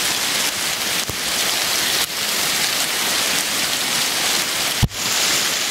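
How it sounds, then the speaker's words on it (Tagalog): Heavy rain pours down steadily in a dense, even hiss outdoors, with a couple of brief dull knocks breaking through near the end. "Bakas na yung ulan."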